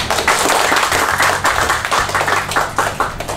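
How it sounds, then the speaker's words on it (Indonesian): A crowd claps loudly at a media launch event. The dense, continuous clapping of many hands carries throughout, with a low hum underneath. "Tepuk tangan."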